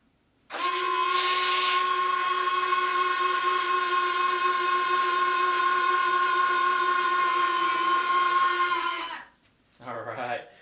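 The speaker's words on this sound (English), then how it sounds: "The retracts are cycling properly" Retractable landing gear on an RC model jet cycling on the bench, a steady electric whir with a bright tonal whine lasting about eight seconds, then stopping, followed by a short faint mechanical rustle.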